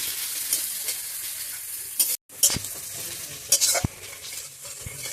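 Minced garlic and ginger sizzle in hot oil in a pan while a spatula stirs and scrapes in bursts, with a brief break in the sound partway through and no talking.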